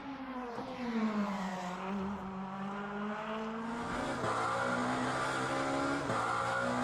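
A race car engine in Le Mans Ultimate, from the Tifosi Italia DLC, drones at high revs, rising steadily and dropping sharply at two gear shifts, with a faint tire squeal.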